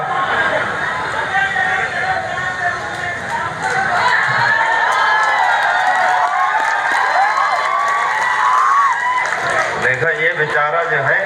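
An audience at a Hindi poetry recital breaks into clapping and cheering, a lively, crowded wash of applause, shouts and excited voices that swells and stays strong before breaking up into scattered sounds near the end.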